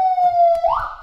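A Whelen emergency siren on a 2022 Ford Bronco response vehicle gives a short, loud electronic wail that holds steady and then rises in pitch, heard up close for about a second.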